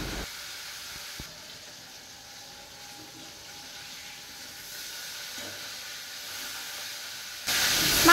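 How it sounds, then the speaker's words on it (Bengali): Fish sizzling in hot mustard oil in a frying pan, a steady soft hiss and crackle that holds evenly and swells louder at the very end, with no one speaking. "তেলটা ভালো করে গরম হয়ে গেলে একে একে মাছগুলোকে ভালো করে লাল লাল করে এপিট ওপিট করে ভেজে নেব।"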